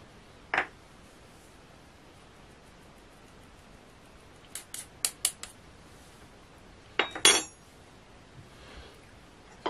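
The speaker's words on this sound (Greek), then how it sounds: "Ανακατεύουμε." Cocoa mixture stirred with a utensil in a bowl, a few sparse clinks and short rapid taps in small clusters against a quiet background, close and clear, with no talking.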